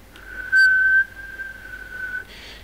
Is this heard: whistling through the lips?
yes